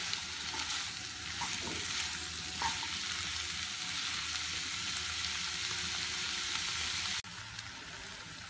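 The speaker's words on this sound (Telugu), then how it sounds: "ఒక్క 5 మినిట్స్ వేగితే చాలు." Food sizzles steadily in a pan on the stove for a pizza-in-a-pan recipe, a dense continuous frying hiss with occasional stirring scrapes and a sudden dip near the end.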